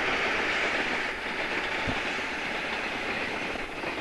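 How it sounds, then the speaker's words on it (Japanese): A 1983 Japanese National Railways tatami-car excursion train rolls steadily past nearby on the Hokuriku Main Line near Isurugi, a continuous broadband rumble and rush with faint rhythmic wheel clatter, no voices. "お座敷列車の臨時列車です"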